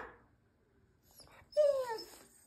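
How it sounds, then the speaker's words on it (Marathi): A pet dog whimpers at a closed door, wanting to bark: a brief high, falling whine heard up close after a quiet pause, with faint rustling before it. "भुंकायचं तुला"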